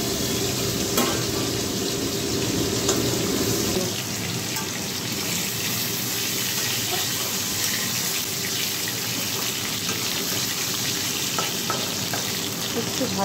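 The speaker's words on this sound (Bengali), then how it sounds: "একটু ভাজা হোক আলুটা।" Potatoes fry in a pan for a Bengali vegetable dish, giving a steady, close sizzle with faint stirring scrapes that runs the whole time, with no talk.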